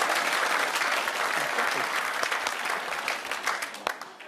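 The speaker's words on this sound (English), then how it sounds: "They're clapping." A studio audience at a British comedy panel quiz show breaks into warm applause, dense clapping that stays full for several seconds then thins out toward the end, with some voices over it.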